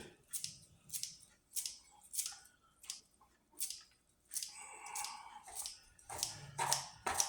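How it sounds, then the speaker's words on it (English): Repeated crisp snipping of scissors cutting herbs for salsa fresca, several quick cuts in uneven bursts, close up with no talking. "Chop a little extra with the scissors."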